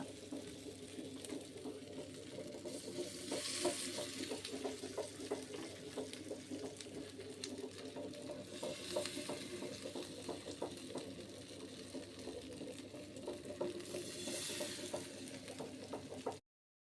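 Fish frying on a hot dosa griddle, a steady low crackling sizzle that holds even and continuous throughout with a faint background hum, no talking.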